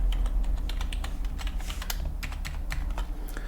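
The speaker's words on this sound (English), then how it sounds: "So we're going to type in the existing password that we have currently." Password being typed on a computer keyboard: a steady run of quick, close plastic key clicks with uneven rhythm over a low background hum, no talking.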